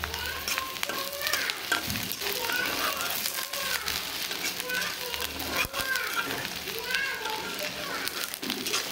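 Green chilies and dried fish frying together in a pan: steady close sizzling with stirring scrapes, while a person talks and children's voices come through in the background.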